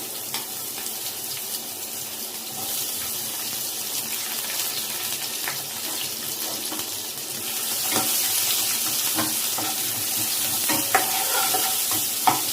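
Chopped onion fries in about two tablespoons of hot oil, making a dense, continuous hiss that grows a little louder partway through and carries a few sharp spatters and clicks.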